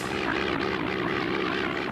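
A small single-engine propeller airplane drones steadily overhead above a forest, its engine hum loud, continuous and even throughout with no voices.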